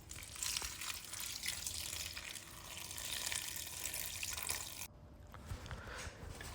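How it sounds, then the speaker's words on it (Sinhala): Water poured into a pot of cashew curry, a continuous close splashing pour that shifts in tone partway through. "මම මේකට වැහෙන ප්‍රමාණයට වතුර ටිකක් එකතු කරගන්නවා"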